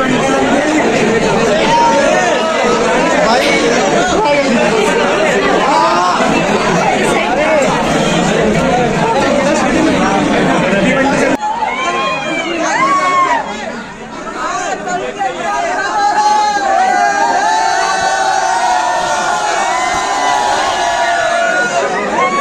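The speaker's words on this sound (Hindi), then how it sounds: "भाई इतना भीड़ है यार" Dense crowd chatter and babble fill the entrance to a busy university event, a steady loud hubbub of many overlapping voices with occasional shouts and calls close by.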